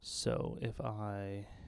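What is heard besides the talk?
None of the usual background noises is heard.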